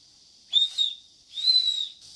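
Two shrill, high-pitched blasts from the whistle on a window breaker fire starter, each about half a second long, with a short gap between them; close and clear with no other sound.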